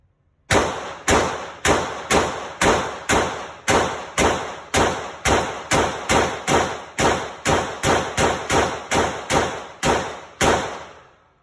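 AR pistol with a 7-inch barrel firing at an outdoor range, a rapid string of about twenty sharp, loud reports in quick, fairly even succession, close by with no talking.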